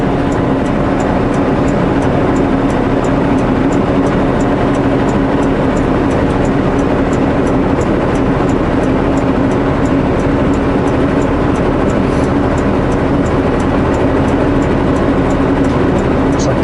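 Truck rolling along a snowy, slushy road with a steady, loud engine drone and tire rumble throughout, constant and unbroken from inside the cab.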